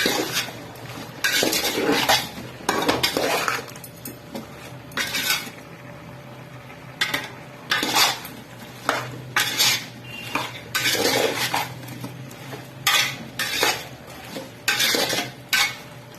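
Mutton fat being stirred into dalcha in a cooking pot produces repeated bursts of metal spoon scraping and clinking against the pot, near and fairly loud, with quieter pauses of faint simmering between strokes.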